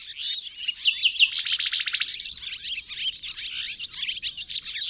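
Birds singing at dawn in a lively mix of chirps, rapid trills and whistled phrases, several overlapping songs close and clear, continuous throughout with no voices.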